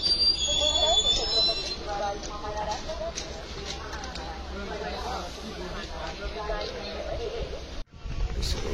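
Mandovi Express standing at Chiplun station on the Konkan Railway, a steady broadband rumble of train and platform noise with scattered metallic squeals and thuds, people talking over it throughout.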